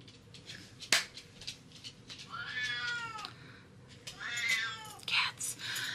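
A domestic cat meows twice, drawn-out calls a couple of seconds apart, fairly close and clear over a quiet room, with a sharp click just before.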